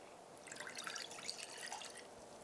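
Liquid pours and drips for a product commercial shot at home, a faint, close, irregular splashing and trickling with small droplet ticks, heard without talk.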